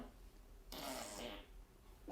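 A recorded fart sound effect plays as one long, raspy blast of a little over a second, faint against quiet room tone.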